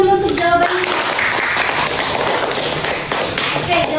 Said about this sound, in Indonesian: tepuk tangan dulu untuk jawabannya